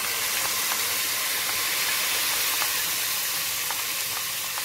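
Tomato concentrate fries in a pan for a kebab red sauce, giving a steady, loud, broadband sizzle that runs unbroken throughout, with a few faint clinks and no speech.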